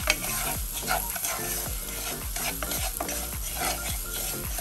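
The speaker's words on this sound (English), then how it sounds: "I just gonna mix this with my butter to brown." Brown sugar and butter melt in a pan and are stirred with a steady sizzle and a repeated rhythmic scraping, close and continuous.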